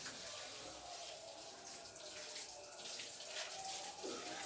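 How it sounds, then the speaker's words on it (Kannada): Water runs steadily from a tap or hose as plants are watered, a soft, fairly distant, continuous hissing flow with slight variations in strength. "ಅಮ್ಮ ಗಿಡಕ್ಕೆಲ್ಲ ನೀರು ಹಾಕ್ತಾ ಇದ್ದಾರೆ"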